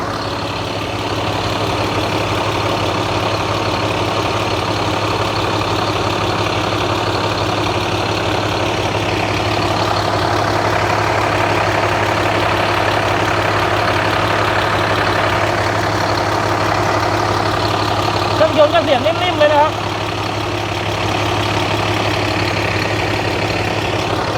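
A 2011 Dongfeng 340 hp diesel tractor truck idles steadily up close, a low, even engine rumble running throughout with a brief clatter near the end.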